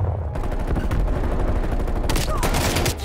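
Rapid sustained bursts of C58 assault rifle fire with a 30-round magazine in Call of Duty Cold War, loud and continuous automatic shots, cutting off briefly before a final louder volley.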